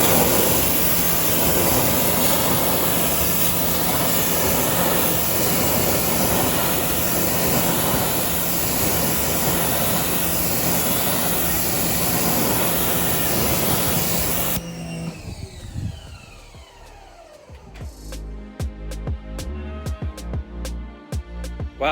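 A pressure washer sprays a steady, loud hiss of water while rinsing a car, then cuts out partway and gives way to quieter, irregular rattling and clicks.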